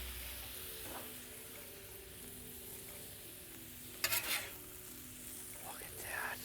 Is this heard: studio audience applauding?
no